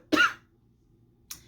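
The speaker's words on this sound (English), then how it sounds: "So I cough on my saliva sometimes" A single wet, throaty cough from a woman who chokes on her saliva, sharp and close, followed by a brief fainter breathy throat sound after a short silence.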